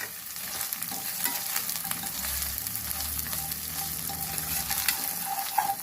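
Ginger garlic paste, green peas and split green chilies fry in a hot pan, giving a dense, continuous sizzle with occasional stirring scrapes, fairly close.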